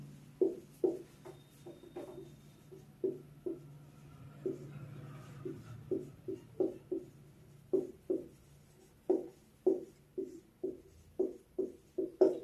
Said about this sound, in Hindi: फार्मूला लिख लेते हैं